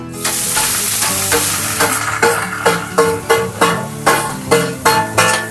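Loud sizzling from a hot pan as chopped banana blossom fries with onions, a spatula stirring and scraping in a steady repeated rhythm, close up and without voices.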